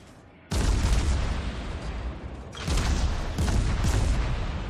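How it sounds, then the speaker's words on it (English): Heavy warship gunfire in World of Warships, a naval battle against the battleship Amagi: loud, dense booming salvos start abruptly and roll on continuously, with a fresh burst of blasts midway and no talking. "I'm also firing my own guns at the Amagi"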